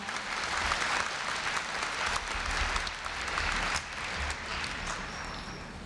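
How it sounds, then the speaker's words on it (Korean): Large crowd of new students and guests applauding at a Korea University freshman entrance ceremony, a dense, steady roar of clapping that holds for about six seconds with a slight dip near the end. "다시 한번 큰 박수 부탁드립니다"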